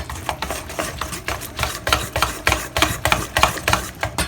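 Besan and yogurt are beaten together by hand in a bowl for kadhi with spinach, giving quick, steady rhythmic whisking strokes, about four per second, close and continuous with no talking.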